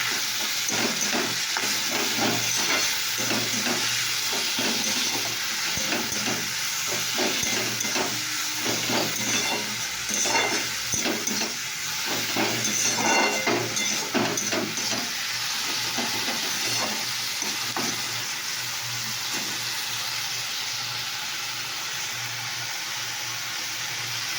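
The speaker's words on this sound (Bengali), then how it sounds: "আর ডালটাকে তো দিই। এবার আমি নেড়ে দেবো।" Dal fries and hisses in a pan for a long stretch, a continuous steamy sizzle overlaid by repeated scraping and stirring strokes that come and go in uneven bursts.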